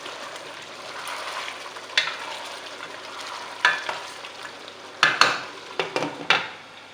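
Sweet pork is stirred in a pot as it cooks, with a soft continuous sizzle broken by several sharp scrapes and clinks of the utensil against the pot.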